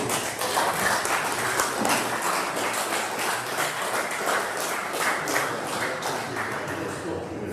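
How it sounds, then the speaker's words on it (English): Sustained audience applause fills a meeting room after a talk at a club's May 2024 gathering, steady dense clapping at a constant level throughout, with some voices mixed in. "How about another round of applause"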